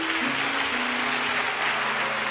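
A large congregation at a prophetic church gathering in Koforidua, Ghana, claps hands in a dense steady wash, with a low sustained tone humming underneath.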